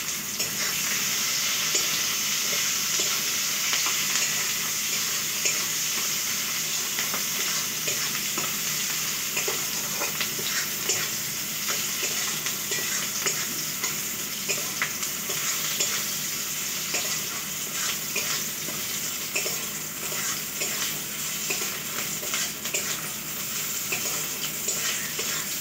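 Onions fry with bay leaf and sugar in a hot pan, giving a loud, continuous close-up sizzle with frequent scraping stirs and crackles, and no talking.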